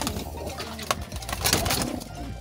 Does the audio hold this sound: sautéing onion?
no